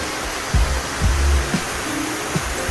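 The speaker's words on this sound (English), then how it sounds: "You can see the waterfall swimming into the stream." A waterfall pours into a stream at a hotel in Bali, giving a dense, steady broadband rush close at hand, with a few low thumps under the flow.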